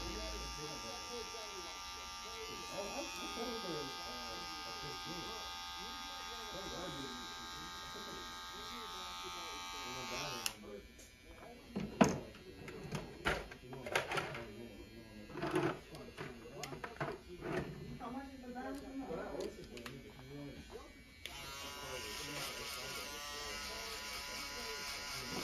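An electric hair clipper buzzes steadily and close during a burst fade haircut, stopping partway through while scraping and handling noises take over, then the buzz resumes.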